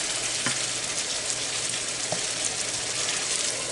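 Shrimp curry sizzles and bubbles in a pan, a dense, steady frying hiss with a couple of faint clinks, close and continuous with no talking.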